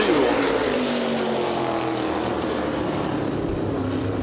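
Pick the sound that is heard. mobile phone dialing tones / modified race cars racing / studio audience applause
modified race cars racing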